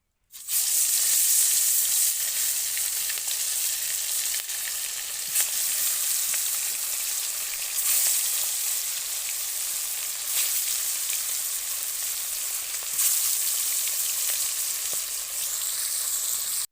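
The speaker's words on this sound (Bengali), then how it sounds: "তো মাছগুলোকে আমি হলুদ আর লবণ দিয়ে মেখেছি। তো এরপরে ভাজবো।" Pieces of fish coated in turmeric and salt sizzle steadily in hot oil, a loud, continuous crackling hiss with small pops that runs unbroken for the whole stretch with no talking.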